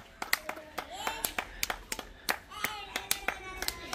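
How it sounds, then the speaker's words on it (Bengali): Hands clap in an irregular series of sharp, close slaps, a few at a time, at a zoo with a child nearby. Voices murmur underneath between the claps. "হাততালি দাও।"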